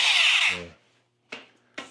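A power drill whirs loudly and winds down, then two short bursts of the drill triggering briefly after a pause, close by.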